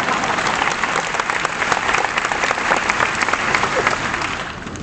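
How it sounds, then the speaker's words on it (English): A graduation audience at Munster High School applauds steadily, dense clapping from a large crowd holding at an even, loud level throughout with no voices over it. "You can clap for that."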